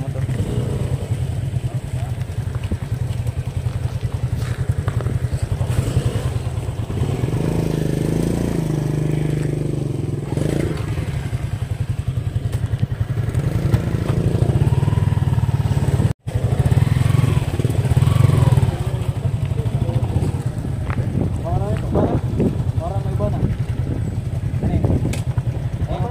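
Motorcycles idle and move slowly as they are parked at the entrance of a premier resort in Bohol, a close, continuous engine rumble with occasional revs and scraping clatter while people talk nearby.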